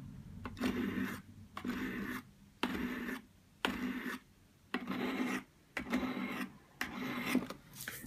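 A chisel-ground CRKT knife blade is drawn repeatedly across the rods of a Spyderco Sharpmaker, producing about eight evenly spaced raspy scraping strokes with short pauses between, close and quiet.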